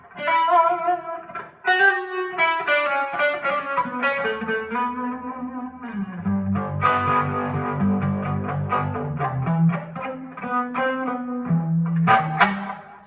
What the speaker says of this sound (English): And with the reverb, it's a winner.